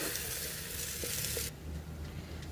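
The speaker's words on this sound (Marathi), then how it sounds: "असं आपण हे दोन मिनिट परतून घेऊया" Vegetable stems coated in ground spice paste sizzle and crackle in a hot pan while being stirred, the frying noise steady then dropping off partway through.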